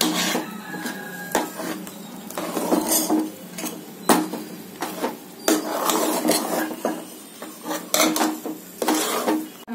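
Ragi kali being stirred in a cooking pot, heard as repeated scraping and clanking of a utensil against the pot in an uneven rhythm of knocks and rubs, close and fairly loud, with no voices.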